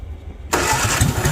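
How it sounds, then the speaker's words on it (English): A barn-find 1959 Morris Minor Traveller woody wagon with a weak starter cranks after half a second of quiet, a loud, close, laboured churning that drags on unevenly to the end without catching. "Yeah, starter's weak."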